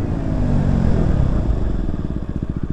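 A 2020 KTM Duke 125 motorcycle braking, engine note dropping from a loud close roar to a slow pulsing idle-like thump as the bike slows, no talk.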